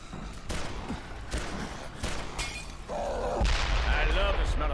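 Gunfire from the Dead Island video game crackles in rapid, dense bursts, with shattering hits and thuds layered over voices of players talking throughout.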